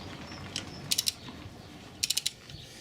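A ratchet wrench tightens car wheel nuts in sequence, giving two quick bursts of three or four sharp metallic clicks each, close and crisp against a quiet background.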